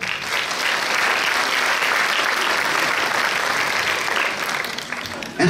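A seated audience at a Miss Fashion 2020 pageant claps for Amandine Boogheel, a full, even roar of applause that stays loud and steady throughout before tapering slightly at the end.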